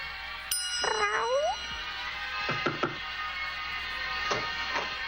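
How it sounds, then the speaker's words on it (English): A cat gives a few drawn-out meows, one rising and falling cry followed by shorter calls, fairly close and clear over a quiet background hum. "This is her cat."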